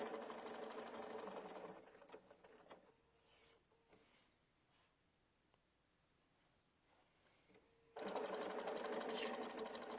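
Sewing machine stitching a mini quilt block, its fast steady chatter running in two loud bursts at the start and end, with a quieter stretch between where someone talks.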